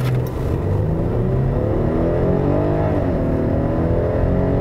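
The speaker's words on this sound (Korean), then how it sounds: "드라이브 모드를 스포츠에 두고요. 급가속을 한번 해보도록 하겠습니다" A Kia K9 3.8 AWD in sport drive mode accelerating hard from inside the cabin, a loud steady engine roar climbing in pitch, with a shift near the middle as the revs drop and rise again.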